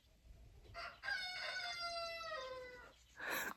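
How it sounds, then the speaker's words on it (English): A rooster crows loudly nearby at sunrise at a Yukon cabin retreat, a long drawn-out cock-a-doodle-doo rising and falling, followed by the start of another crow. "Maybe the rooster will crow again."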